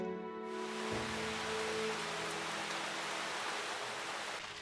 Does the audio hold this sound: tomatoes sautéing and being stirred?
no